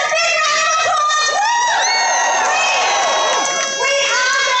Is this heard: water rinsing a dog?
no